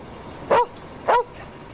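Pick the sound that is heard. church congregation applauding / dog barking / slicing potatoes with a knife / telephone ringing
dog barking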